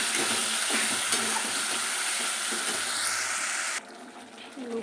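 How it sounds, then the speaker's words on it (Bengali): Spice paste for Bombay duck fish is stirred and sautéed in a hot pan, a steady broadband sizzle with scraping strokes, close and continuous, dropping to a quieter hiss near the end. "কষা হচ্ছে লোটে মাছের"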